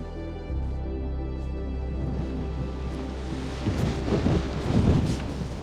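Breezy wind buffeting a microphone just off a mountain summit in Glencoe, a steady low rumble that swells and gusts louder toward the end, with no voices.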